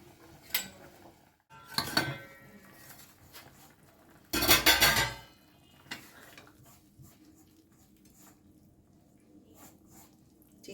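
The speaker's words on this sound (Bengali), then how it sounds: "এবারে একবার ঢাকনাটা খুলে দেখতে হবে।" A metal lid comes off a pot of vegetable chicken soup with a sharp clatter and clinks of cookware, among several scattered knocks and taps close by in a quiet kitchen.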